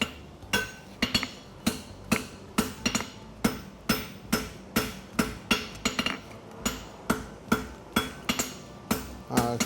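A hammer forges the heel caulk of a hunter hind horseshoe in a steady run of sharp, ringing metal-on-metal strikes, about two blows a second, close and clear with no talk.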